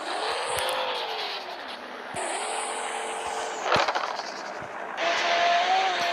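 Cars race in a video game with sustained engine whine and revving, shifting pitch as gears change, loud and continuous, with faint talk beneath.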